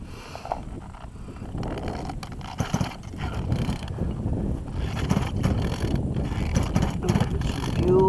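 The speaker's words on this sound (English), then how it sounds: "I'm going to start it up with no choke. Give it a little prime." An RC car engine is primed and started without choke, giving close, uneven mechanical clatter and ratcheting pulls that grow busier and louder toward the end.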